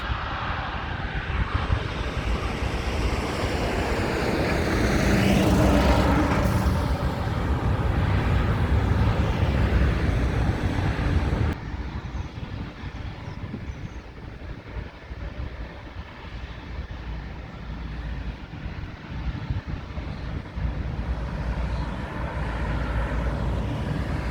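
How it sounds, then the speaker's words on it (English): A Boeing 777 takes off at London Heathrow airport with a loud, sustained jet engine roar that swells over several seconds, then eases into a fainter, steady rumble as the aircraft recedes. No speech is heard. "And now we got the turn of the 777."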